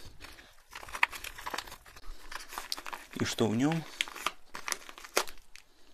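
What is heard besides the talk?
cutting open a yellow plastic parcel bag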